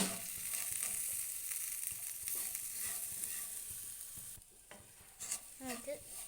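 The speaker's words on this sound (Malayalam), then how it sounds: "കശുവണ്ടി മുന്തിരി ഇടാം." Cashews and raisins sizzle and fry in a hot pan while a spoon stirs them steadily, a close, continuous crackle with a few scraping strokes near the end.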